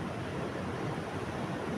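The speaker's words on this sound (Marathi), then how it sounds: "या जोरदार लाटा येत आहे" Strong sea waves break against rocks along the shore, a steady, loud roar of surf with no distinct individual crashes and some wind noise over the microphone.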